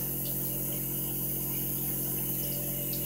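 A water tap runs steadily into a sink while a Sigma Spa brush cleaning glove is rinsed, a constant close hiss and splash under a low pump-like hum, with no talking.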